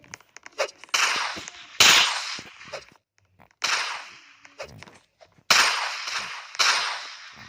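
Gunshots ring out in a Murderer vs Sheriff video game, several sharp close cracks spaced a second or two apart, each trailing off in a short decaying tail, with faint clicks between.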